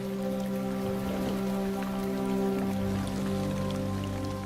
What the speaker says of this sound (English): As the rains roll in